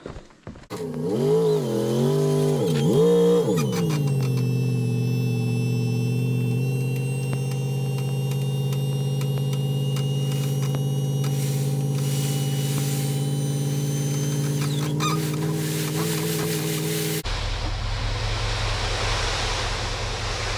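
A 2019 truck fitted with a used dump body hauls a load, its engine revving up and settling into a steady, close drone with a harmonic hum before cutting to a broadband rush near the end.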